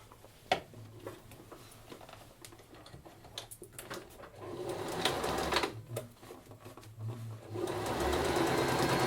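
A sewing machine runs steadily, stitching the seam of a fabric drawstring bag, with a continuous mechanical whir and rapid needle clatter that grows louder and busier toward the end.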